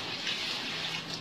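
Water running into a container to dissolve lye (caustic soda) for homemade liquid soap, a steady close-up pouring rush with a bright splashy texture, no voices.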